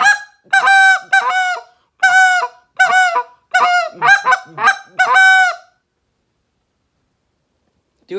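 A hand-blown goose call makes a series of loud, close, honking spit notes, some single and some in quick clipped pairs, followed by silence.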